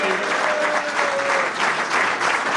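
Steady, dense applause from a crowd at a football club's season presentation, greeting a player as he is introduced, continuous and fairly loud throughout.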